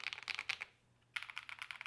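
Typing on a Keychron V1 keyboard fitted with Akko switches: quick bursts of crisp clacking keystrokes, a brief pause, then another rapid run of keys, close and clear.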